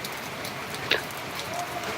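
Midday rain falls steadily in a garden as a soft, even hiss at low level, with a brief brighter patter near the middle and no clear talking.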